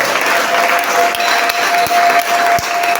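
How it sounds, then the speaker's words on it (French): Steady applause from a church congregation during a French-language sermon, a dense wash of clapping held at an even level throughout, with a few low thumps and a faint sustained tone underneath. "Est-ce que tu peux lui donner des acclamations?"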